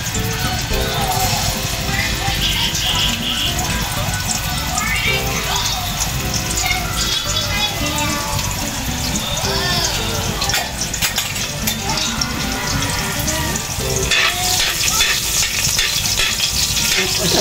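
Garlic fries in hot cooking oil in a pan for a sautéed dish with dried fish and sardines, crackling and sizzling steadily close by, with stirring and clinks, while a person talks over it.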